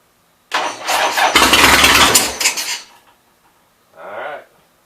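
A 1979 Harley-Davidson Ironhead Sportster barn find cranks and fires up, catching into a loud ragged run for about two seconds before dying, then a brief second crank burst follows after a pause.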